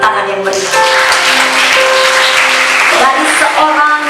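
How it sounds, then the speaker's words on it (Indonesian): A church audience applauds loudly and steadily for several seconds after being called on to clap, with a voice heard briefly over the clapping. "Berikan tepuk tangan yang meriah"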